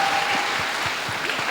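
Audience clapping for a participant at a spiritual class session, a brief continuous burst of applause at steady loudness.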